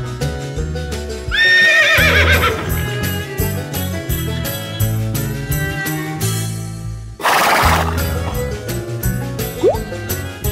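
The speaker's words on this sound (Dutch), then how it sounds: "Wat zegt het paard?" Horse neighing loudly in a children's animal-sounds show, a shrill whinny rising and falling, mixed with clip-clop hooves and a bright backing tune, followed later by a second burst of sound.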